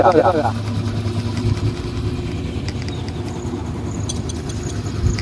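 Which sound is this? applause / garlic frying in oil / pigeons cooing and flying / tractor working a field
tractor working a field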